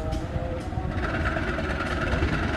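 The Serayu passenger train rumbles steadily at Manonjaya station, a dense continuous roar of rail wheels and engine, close and loud with no voices.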